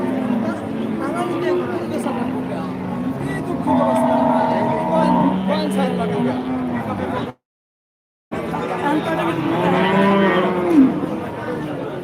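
Cattle at a crowded heifer market in Dhamrai, Dhaka, with lowing moos rising over a steady din of voices and outdoor crowd noise, people talking throughout.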